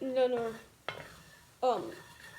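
Scrambled eggs stirred in a pan near the end of cooking, with three short scraping, clattering strokes of a utensil against the pan separated by quieter gaps.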